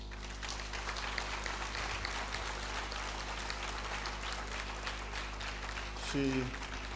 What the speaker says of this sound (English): I have asked you to rise so that you receive a distinguished applause